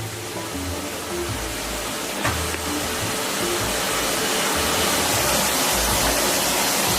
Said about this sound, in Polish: wiesz, że odkurzacz w ten sposób rozwalisz?